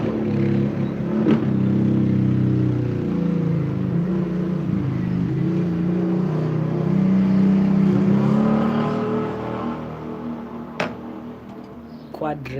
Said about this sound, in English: the noise is gonna come again, because the guy is passing again with his quad